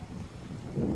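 Gusty wind buffets the microphone outdoors in a farm field, a steady low rumble that swells louder toward the end, with no speech.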